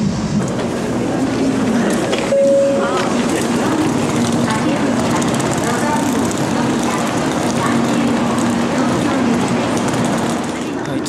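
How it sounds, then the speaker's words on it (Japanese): A steady, loud rumble and hum of a Nozomi Shinkansen bullet train bound for Tokyo in motion, continuous throughout, with muffled voices underneath. "この電車はのぞみ号東京行きです"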